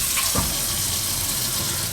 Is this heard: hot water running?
yes